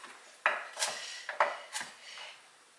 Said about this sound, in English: Just finishing chopping up the carrots